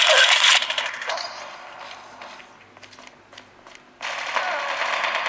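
Gunfire in the mobile game Call of Duty Mobile, a dense burst of automatic shots at the start, then quieter mechanical game clatter before another sustained loud burst near the end.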